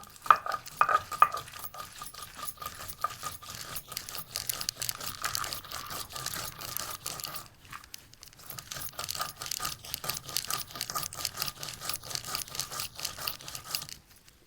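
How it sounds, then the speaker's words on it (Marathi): A spice paste for a village-style amti is ground on a traditional stone slab, giving continuous rhythmic scraping and rubbing strokes up close. A short pause comes midway, then the grinding resumes steadily with no talking. "तर आता वाटण वाटायला सुरुवात करायची तर आता ते आपण बारीक वाटून घेऊ"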